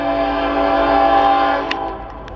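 A Norfolk Southern northbound mixed freight train passes in Marion, Ohio, its horn sounding loud and close in a sustained blare that fades near the end, with brief metallic clanks.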